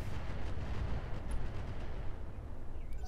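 Missile salvo in the BattleTech-based game Roguetech, thirty-five missiles launching and impacting as a rolling, rumbling barrage of booms and crackles, loud and sustained without speech.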